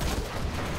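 A quad cannon in Command & Conquer Generals Zero Hour fires a dense, continuous burst of rapid gunfire, loud and unbroken for under a second.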